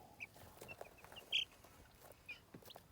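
Young meat chickens, about two weeks old and near 0.7 kg, cluck in a pen with ground cover, giving scattered short, soft clucks and chirps over a quiet background.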